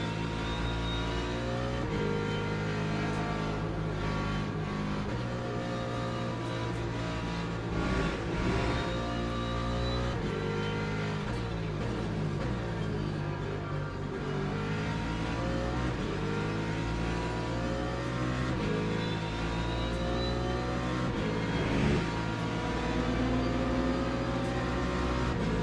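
Race cars in the Le Mans Ultimate sim, including a BMW and a Ferrari, with engines revving and shifting continuously, a steady loud mix of several cars running close together.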